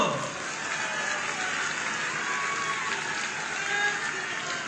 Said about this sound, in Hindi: एक लिए जोरदार ताली तो बजा दो।